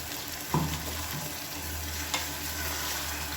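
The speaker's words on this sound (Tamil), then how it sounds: "அரைச்சதை சேர்த்துட்டு நல்லா வதக்கி விடணும்" Onions sauté in oil with a ground paste of dried red chili, garlic, pepper and cumin, giving a close, continuous sizzle broken by a couple of sharp scraping stirs of a spoon against the pan, with no talking.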